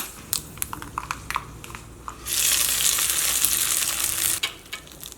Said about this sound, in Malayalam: ഇപ്പോൾ കടുക് പൊട്ടിയിട്ടുണ്ട്. പിന്നെ ഉണക്കമുളകും കറിവേപ്പിലയും ഇതിനകത്ത് കിടന്നിട്ട് നന്നായിട്ട് മുരിഞ്ഞിട്ടുണ്ട്.